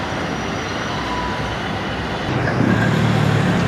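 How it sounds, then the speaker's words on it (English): Road traffic at Three Miles, Jamaica, a constant roadside wash of engines and tyres from passing vehicles, growing louder and heavier near the end. "Look at the traffic."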